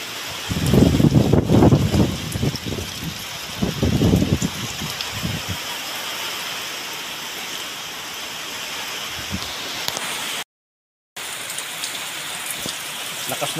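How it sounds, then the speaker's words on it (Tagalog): Heavy typhoon rain from Typhoon Christine roars steadily with wind buffeting the microphone; a voice talks over it at the start, then the downpour continues alone. "Lakas ng ulan, no?"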